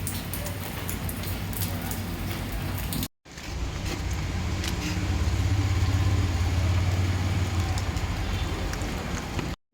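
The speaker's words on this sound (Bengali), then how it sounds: "বাইরে বৃষ্টি হচ্ছে মুসুম ধারে" Heavy torrential rain falling outside in the evening, a dense, continuous roar that drops out briefly once and then swells slightly louder, with no voices.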